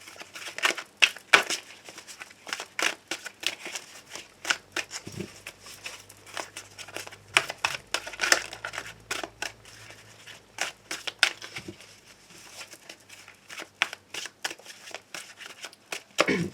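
Tarot cards are shuffled in repeated soft, papery riffles and taps, close and quiet, continuing rhythmically throughout with a faint low hum underneath.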